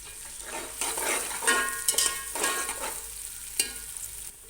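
Onions frying gently in a pan for Arabian machboos chicken rice, a steady sizzle broken by scraping stirs that rise and fall, close and fairly loud with no talk.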